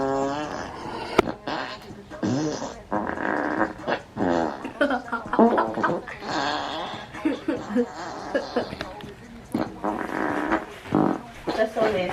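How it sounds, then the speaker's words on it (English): Fart sounds played by an Alexa smart speaker: a long rapid string of varied, loud comedic fart noises, with people talking and chuckling over them. "36 farts coming your way."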